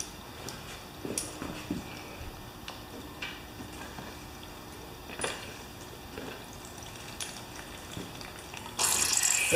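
Water trickles and drips from the tank of an old electric wheelbarrow air compressor that sat unused for eight years, a faint steady dribble with scattered ticks, then a louder hissing gush at the end.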